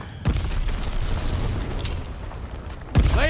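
A grenade exploding in Call of Duty: Vanguard, a heavy booming blast with a rumbling tail, followed near the end by a second sharp boom and ringing whine; loud and close.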